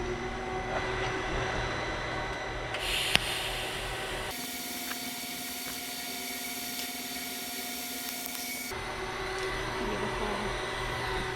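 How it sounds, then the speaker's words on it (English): Mild steel being welded on a truck transmission crossmember, a steady buzzing hiss that holds for several seconds and changes tone partway through as the arc is broken and struck again, with no talking. "Let's weld."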